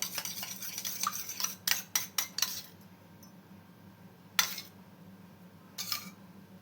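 A spoon stirs a homemade fresh yogurt mixture for doughnuts in a bowl: a quick run of close, bright clinks against the bowl, a pause, then two more isolated scrapes and taps. No voices.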